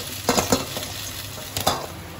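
Bata fish frying in hot oil, a steady hiss with a few soft clinks and stirring scrapes from a utensil in the pan, close up and without speech.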